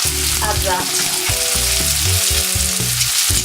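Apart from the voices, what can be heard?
garlic, onion and peppers sizzling in a pan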